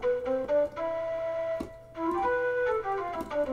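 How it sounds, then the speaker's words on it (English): An Osmose synthesizer playing its Flute Transverse preset from a DAW: a breathy, flute-like melodic line of short and held notes over soft accompanying tones, fairly quiet, with no talking. "a very, very nice preset called Flute Transverse, and it sounds like this"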